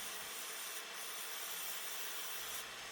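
A butternut wood bowl spinning on a lathe with a cutting tool shaving the surface, a steady close rushing scrape with a short lighter catch near the start and end.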